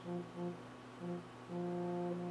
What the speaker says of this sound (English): pick any one of the existing different vibrations here. You can probably hear those.